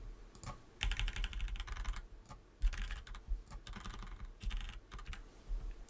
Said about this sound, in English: I'm going to zoom in and use arrow keys to align them.